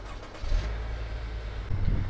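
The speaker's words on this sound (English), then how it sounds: "that's going to fire up your car" A 2017 Chevrolet Impala with a 2.5L engine starts by remote start and settles into a steady low idle rumble, close by and alone with no talk.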